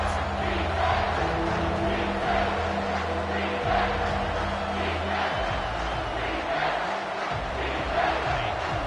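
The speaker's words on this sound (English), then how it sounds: "This crowd knows when to bring it." A packed stadium crowd at a college football video game roars in a loud, sustained wall of cheering and shouting, with distant commentary-like voices faintly underneath.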